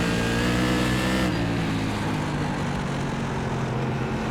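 A modified race car engine in the iRacing sim at South Boston Speedway drones loud and steady, a dense harmonic roar that shifts pitch slightly as it runs on, with no talk over it.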